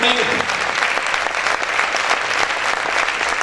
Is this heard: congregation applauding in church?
yes